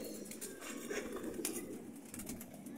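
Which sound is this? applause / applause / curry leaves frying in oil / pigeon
pigeon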